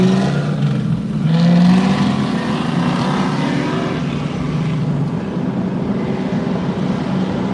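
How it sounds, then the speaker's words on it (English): An AMC Pacer engine idles and rumbles steadily nearby at the Woodward Dream Cruise, swelling slightly early on before settling into a continuous low drone. "You hear that? That guy got that Pacer running yesterday."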